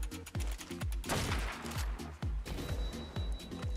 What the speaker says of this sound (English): these cannons are weird.